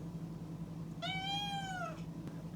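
A hungry house cat gives a single clear, drawn-out meow lasting about a second, close by in a quiet room with a low background hum.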